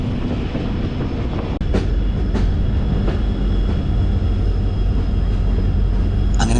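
An Indian Railways train with a Vistadome coach runs the Mangaluru–Yesvantpur line via Sakleshpur, heard from inside as a loud continuous rumble with rhythmic wheel clacks over rail joints and no talk.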